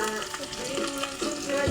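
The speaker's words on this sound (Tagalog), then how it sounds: "nagpipirito na tayo ng french fries" French fries frying in hot spattering oil, a steady close sizzle and crackle running throughout without any voices.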